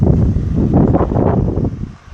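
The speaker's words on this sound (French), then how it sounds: "Un peu de vent." Steady wind buffeting a microphone outdoors at dusk at a harbour in Réunion, a low rumbling roar with gusts that swell and ease, no voices.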